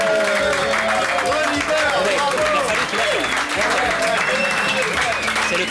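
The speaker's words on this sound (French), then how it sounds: "Bravo, on l'applaudit." A French TV studio audience applauds the singer Christophe, steady dense clapping filling the room continuously, with voices talking over the applause.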